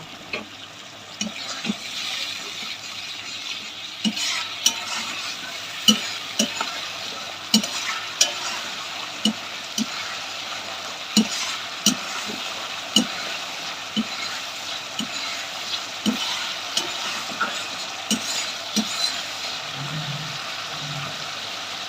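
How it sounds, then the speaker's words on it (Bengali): Ground spice paste sautés in a hot pan, a low steady sizzle broken by regular, roughly once-a-second scrapes and knocks of the stirring spoon. "পেস্ট করে যে মশলাটা রেখেছিলাম, মশলাটা মশলাটা ভালো করে কষিয়ে নেব"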